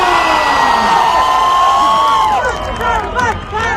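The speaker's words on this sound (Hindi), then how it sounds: "Come on, ladies and gentlemen, जोरदार तालियां और सलमान खान।" Large crowd at a live Salman Khan show in Riyadh roars and whoops steadily, a loud sustained cheer with rising shouts and whistles and no distinct clapping.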